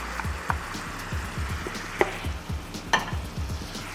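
A vinegar and honey mixture with sun-dried tomatoes sizzles in a hot pan, a close, steady crackling fry with small popping bursts scattered throughout.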